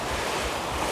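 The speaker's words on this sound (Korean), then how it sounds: "물소리 좀 작아지면" Water rushes loudly and continuously near a bridge on a rainy day, a dense broadband roar with no pauses and no voices.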